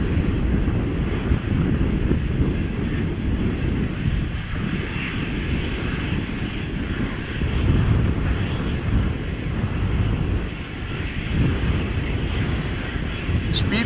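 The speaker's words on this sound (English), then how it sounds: "the A340 is going as fast as it can" An Airbus A340 airliner accelerates down the runway at Amsterdam Schiphol, its engines a steady low rumble at a distance with wind buffeting the microphone and faint talk underneath.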